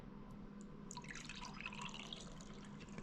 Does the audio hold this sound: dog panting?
no